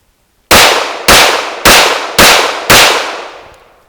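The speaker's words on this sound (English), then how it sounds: "we'll put 5 rounds to it relatively quickly and you'll see that it eats this stuff up no problem" Five sharp, loud pistol shots from a Smith & Wesson M&P 9 Pro firing Tula steel-cased 9mm ammunition at a range, spaced evenly about half a second apart, each with a short decaying tail.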